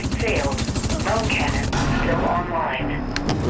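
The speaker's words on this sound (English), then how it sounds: "I'm about to hit him with my gun." Gunfire from the sci-fi shooter Dust 514 comes as rapid automatic bursts under a busy game mix and continuous talk, with sharp repeated reports running through the whole stretch.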